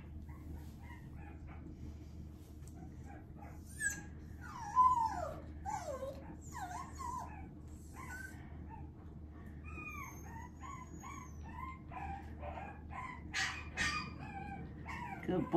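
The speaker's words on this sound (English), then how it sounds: "Puppy number five, this is Coco." A puppy whimpers and yips in short, high, scattered bursts over a low steady background hum, fairly quiet with occasional louder cries.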